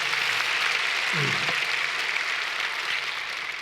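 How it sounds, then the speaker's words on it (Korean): A church congregation claps steadily after a choir's hymn, a dense, even wash of applause that fills the whole moment without pause. "박수 한번 좀 쳐주시기 바랍니다"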